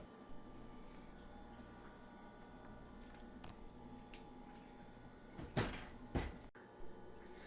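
Quiet kitchen hum with faint clatter, then a couple of sharp thuds as an oven door shuts after a pan of plain dry chickpeas goes inside.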